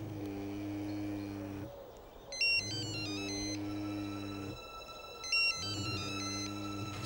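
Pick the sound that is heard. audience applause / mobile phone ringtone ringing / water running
mobile phone ringtone ringing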